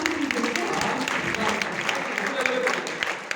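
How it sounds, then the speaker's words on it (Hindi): Audience applause at a Hindi poetry gathering (kavi sammelan) in Ambala Cantt, a dense, steady wash of clapping from a large crowd that carries on without pause for about three seconds. "एक बार ताली बजा के आगे"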